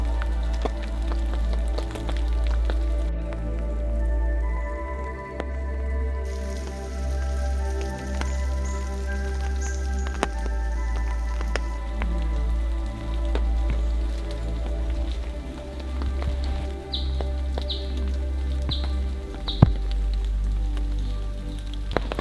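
Steady rain falling on a rainy bush walk in northern New South Wales, a continuous soft wash of patter with scattered nearer drips, no talk over it.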